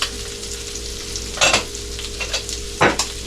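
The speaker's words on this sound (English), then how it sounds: "Okay, now that it's starting to pop," A pan of shrimp and grits simmers with a soft constant bubbling hiss, broken by a few sharp pops and stirring scrapes, close up with no voices.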